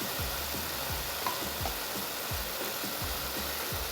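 Cabbage sautéing in a pan on Bengali-style cabbage, a steady sizzle running throughout with repeated scraping strokes of stirring, close and alone.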